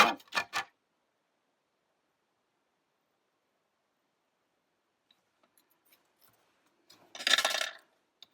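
Cutting out a small piece of card for a single-layer inlay card: a few quick, close snips at the start, then near silence with faint ticks, and a longer rustling cut near the end.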